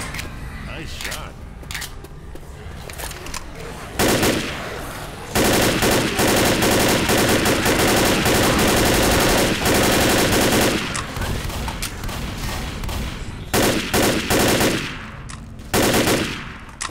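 Rapid automatic gunfire from Left 4 Dead on a Silent Hill custom map, loud bursts of shots that start and stop over several seconds, with quieter stretches between volleys and brief talk.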